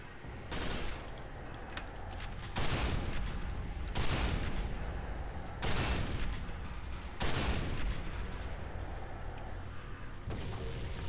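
Heavy gunfire from a big weapon in Quake 4 comes in repeated loud bursts roughly every one and a half seconds, each a broadband blast trailing into a rumbling tail, over a steady background of game noise.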